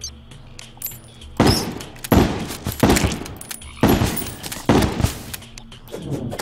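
Loud bursts of gunfire from guns in the video game Terraria, arriving as several dense, heavy volleys separated by short quieter gaps.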